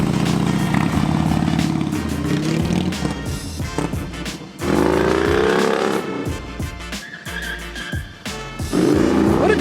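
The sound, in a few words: Harley Davidson Dyna motorcycle on a test ride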